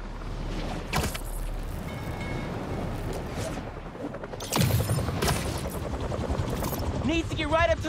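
A helicopter rotor in the video game Spider-Man 2 thrums with a pulsing chop beneath a busy mix of sharp bursts, booms and swooshing effects, growing louder and more chaotic toward the end.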